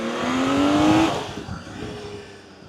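A Honda CBX1000 six-cylinder superbike revs hard, its rising whine climbing for about a second before the engine note falls away and fades into a quieter, receding tail.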